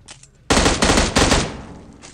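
Gunfire in PUBG Mobile finishing off a downed enemy: loud rapid bursts of automatic shots, two dense volleys back to back, close and dominant with no talk.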